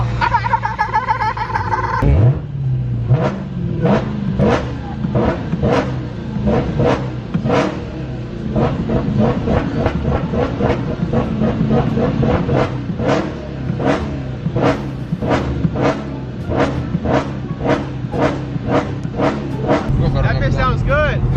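A Dodge Charger Hellcat Redeye with a performance mod revs outside in a loud run of sharp, evenly spaced bursts, one after another, close by, with people talking and laughing over it.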